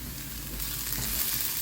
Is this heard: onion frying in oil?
yes